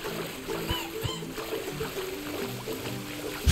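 Splashing water in Astro's Playroom, light sloshes and burbles alongside game music and a voice talking over them.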